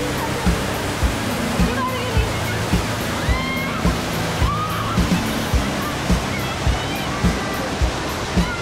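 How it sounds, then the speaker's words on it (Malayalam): A large waterfall at Bhavli Dam near Nashik, running strong after a night of rain, roars as a constant rushing wash while a regular thumping pulse and brief chirps or voices sit faintly over it. "ഇപ്പോൾ ഈ വെള്ള വാട്ടർഫാൾസിൻ്റെ ഫോഴ്സും ഇച്ചിരി കൂടിയിട്ടുണ്ട്"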